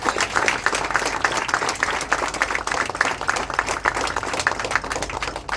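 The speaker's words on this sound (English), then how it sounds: "A round of applause for them." Crowd applause aboard the Indian Navy ship INS Kolkata, honoring its officers and sailors: dense, steady clapping from many hands, sustained and fairly loud throughout.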